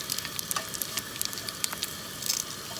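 Daing, a dried fish, fries in a pan at breakfast, giving a steady, soft sizzle with small crackles and pops close by.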